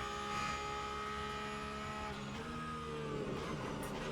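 Porsche GT3 race car lapping in the Le Mans Ultimate racing game, a steady tonal engine drone with shifting pitch and a brief dip as if braking or changing gear, continuous and evenly loud.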